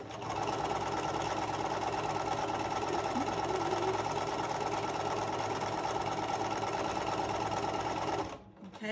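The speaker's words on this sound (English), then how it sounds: "And so I'm sewing my 1/4 inch" A sewing machine stitches a quarter-inch seam around a fabric travel tray, a steady, close, fast whirring hum that runs unbroken for about eight seconds before stopping.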